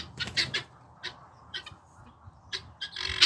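Guinea fowl calling noisily in a farmyard, a series of sharp, harsh squawking bursts in an uneven rhythm, fairly close and loud, with no talk.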